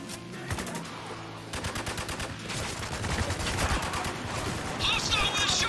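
Rapid gunfire bursts from the video game Spec Ops: The Line, a loud combat exchange of repeated shots with an automatic weapon rattling in dense strings, while soldiers' voices shout over the shooting.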